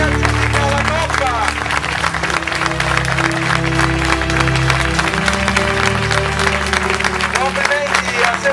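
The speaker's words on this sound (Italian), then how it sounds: "Vorrei che facesse un lungo applauso a Diego e a Sebastiano Castellano che si aggiudica la Coppa." Audience applause at the prize ceremony of the Coppa delle due costiere, a steady, dense, sustained clapping that runs the whole time under someone speaking over a loudspeaker.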